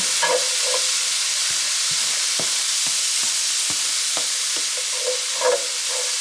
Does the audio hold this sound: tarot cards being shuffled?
no